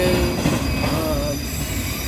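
A long, slow auto rack freight train rolls steadily past with a continuous loud rumble and metallic wheel squeal, a drawn-out screech rising and falling over the grinding rail noise.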